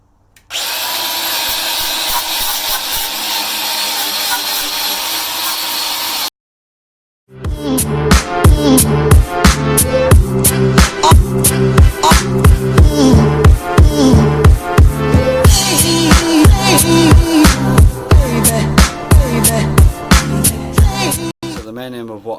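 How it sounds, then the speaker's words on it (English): A grinder fitted with a wire wheel works in a garage: a loud, steady high whine at first, then after a short pause, harsh scraping bursts with a pulsing rhythm as the wheel is pressed and eased, close by. "what we've got is a grinder with a wire wheel on it"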